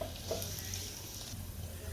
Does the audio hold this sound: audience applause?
no